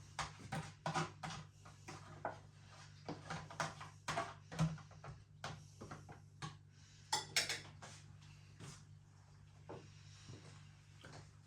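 A spoon clinks and scrapes against a container of M&S green Thai chicken curry in a quiet room, a series of short, faint metallic taps and scrapes at an irregular pace.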